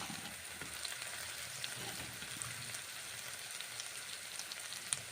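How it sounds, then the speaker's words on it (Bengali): Chhana vada, cottage cheese fritters, frying in hot oil, a soft steady crackling sizzle with scattered pops, quiet and continuous with no voices. "ছানা বড়াগুলো ছেড়ে দিলাম"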